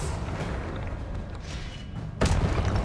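The Confringo blasting spell explodes in Hogwarts Legacy, a single sudden loud boom cutting through rumbling game ambience near the end.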